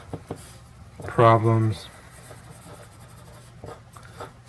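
Pen scratching on paper while working a kinematics problem by hand, soft strokes running under a person's speech.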